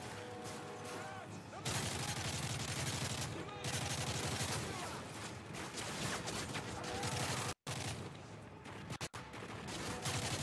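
Sustained heavy gunfire in the Modern Warfare 3 campaign, dense loud automatic bursts filling nearly the whole stretch with only brief gaps, mixed with battle noise.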